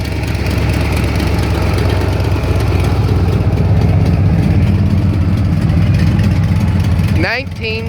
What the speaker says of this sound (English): '78 L82 package, performance motor Corvette